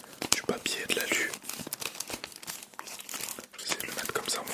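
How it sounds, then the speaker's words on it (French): Paper and aluminium foil wrapper of a chocolate bar crinkled and torn up close, dense crackling rustles and crumples in an ASMR setting, with soft whispering underneath. "Aussi le bruit du papier et de l'alu."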